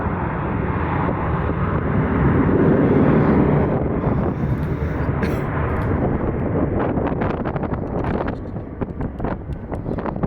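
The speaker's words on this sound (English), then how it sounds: "those are older engines because it's an older plane, and they make some pretty" An older Airbus A321 with older engines roars at an airport, a loud continuous jet rumble with wind buffeting that lasts throughout and eases slightly near the end.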